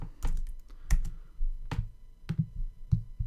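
Someone types a comment on a computer keyboard with a few separate, crisp key clicks in an uneven rhythm, heard close up and alone.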